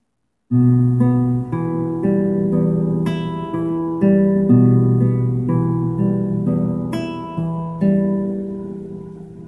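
An acoustic guitar is fingerpicked slowly in a steady alternating Travis picking pattern, notes ringing and overlapping, clear and close with no voice.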